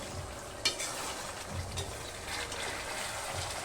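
Potatoes stirred and sautéed with spices in a pan for a chicken curry, a steady soft sizzle and scraping stir running throughout, close and alone with one sharp clink near the start.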